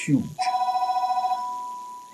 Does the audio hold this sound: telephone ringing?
yes